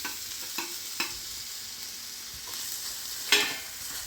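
Ginger garlic paste sizzles low and steady in a pan, with a few light clinks of a stirring spoon. One louder scrape near the end may be tomatoes being added.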